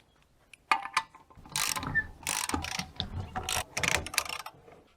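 The spare wheel is taken off the rear of a Toyota FJ Cruiser in a series of metallic clunks, rattles and scraping bursts, close and loud, with short pauses between the knocks.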